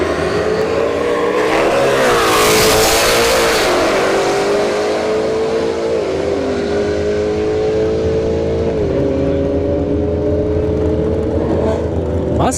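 A Ford Mustang S550 and a fifth-generation Camaro SS drag race at a street test-and-tune night, engines roaring loud and close, climbing through repeated gear shifts and revving on as the cars pull away down the strip.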